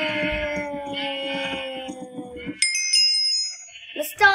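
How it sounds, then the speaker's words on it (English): Minecraft sheep bleating during a game, with a wavering harmonic bleat in the first half, then sharper high game tones and clicks after, fairly close and loud with no talk. "Sheep are coming"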